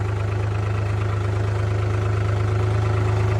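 Vehicle engine running in four-wheel-drive gear with tyres clogged by farm-field mud: a steady low idling drone with a constant hum, even and continuous throughout.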